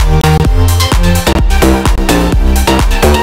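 A loud electronic beat pounds in a steady rhythm, with a deep kick, crisp claps and bright ticking hi-hats.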